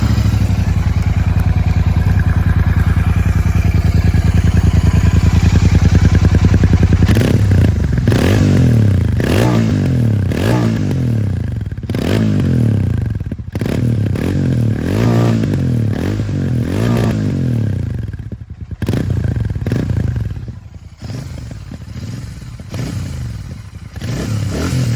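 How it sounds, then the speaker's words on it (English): A Royal Enfield Super Meteor motorcycle with its air filter snorkel removed idles, then revs repeatedly in sharp rising and falling bursts. The engine is loud, close by and heard alone, with some clattering mechanical noise. "I'll start the bike up and I'll start it and give it a bit of a rev"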